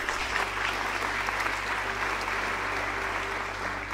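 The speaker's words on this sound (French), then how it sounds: "J'aimerais ça qu'on puisse leur donner une bonne main d'applaudissements." Steady, even applause from a crowd at a volunteers' ball in Saint-Jacques, continuous and moderately loud over a low steady hum.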